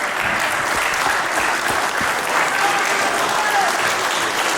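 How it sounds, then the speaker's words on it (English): A wrestling crowd at an independent pro show applauds Nathan Byrne, a loud, sustained roar of clapping from a packed room with a commentator's voice faintly underneath. "Crowd showing appreciation for the heart of Nathan Byrne."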